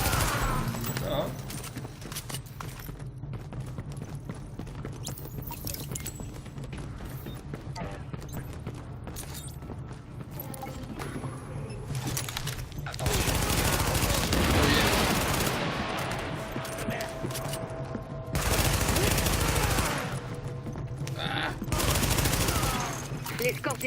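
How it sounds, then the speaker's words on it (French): Sustained gunfire in The Division, set in Manhattan, with dense bursts of automatic fire over a constant background rumble, louder barrages toward the end. "L'escorte essuie des tirs en provenance du toit."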